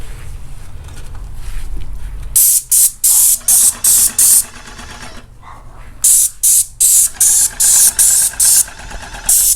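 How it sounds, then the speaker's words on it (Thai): Short hissing bursts of spray paint come in quick repeated pulses while a house exterior is painted, two clusters of rapid sprays separated by a pause, loud and close. "เอากระดาษบังเพื่อไม่ให้สีสเปรย์เนี่ย มันปลิวเข้ามาที่"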